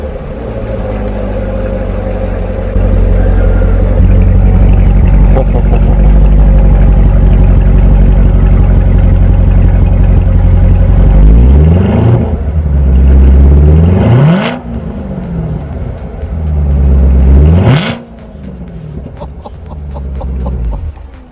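A Chevrolet Corvette Z06 with engine work and a custom tune idles with a deep, steady rumble. It then gives three sharp revs that rise and fall, each louder and closer, with no talking.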